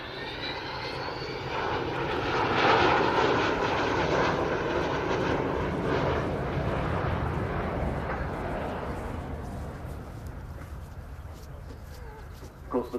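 Avro Vulcan B2 XH558 bomber at an airshow flying display, a loud roar of jet engines that swells early and slowly fades as it passes, with faint birds in the background.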